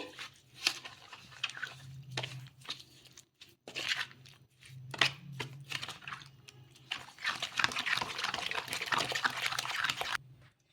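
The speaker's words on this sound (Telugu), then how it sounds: "హాఫ్ కప్పు నీళ్ళు అయితే వేసుకోవాలి వేసుకొని మొత్తం కలిసేలాగా కలిపేసుకోవాలి" Curd and water being mixed into a ridge gourd batter by hand, quiet wet squelching and crunchy stirring strokes in an uneven rhythm, close and soft, with no talk.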